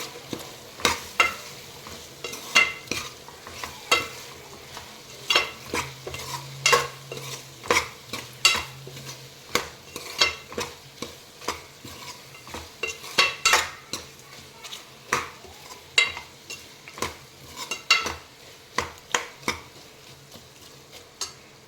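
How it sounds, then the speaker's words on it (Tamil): Meal maker soy chunks are stirred into masala in a pan for veg pulao, with a steady run of sharp spoon scrapes and clinks against the pot over a low sizzle, close and fairly loud, no talking. "நம்ம மசாலா போட்டு வரை வச்சுருந்த மீல் மேக்கரை உள்ளே தட்டி ஒரு கிளறு கிளறி விடுவோம்"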